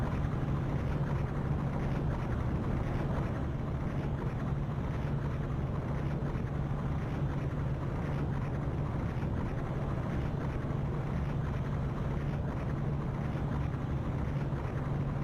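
Ship engine in the Ship Simulator game running at low throttle: a steady, continuous low drone with a constant hum and washing water-like noise, unchanging throughout.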